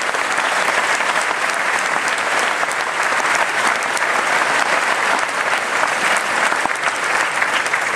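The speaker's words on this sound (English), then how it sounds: "I think he deserves a huge round of applause." Large audience at the JavaOne 2009 general session applauding; dense, loud, continuous clapping that stays level from start to finish with no talk over it.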